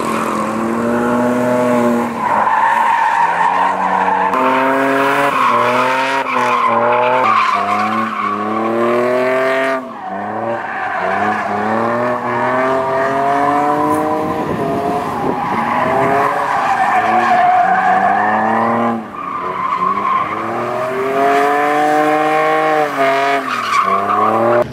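BMW E36 drifting with its tires skidding and squealing, the engine revving and wailing in long rising and falling sweeps over about 25 seconds, loud and close with hardly a break.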